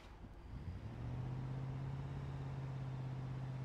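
A car engine in the BeamNG.drive driving game hums steadily in a car jump arena. The low drone rises in pitch over the first second, then settles into an even idle with no talk over it.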